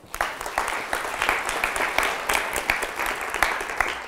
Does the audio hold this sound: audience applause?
yes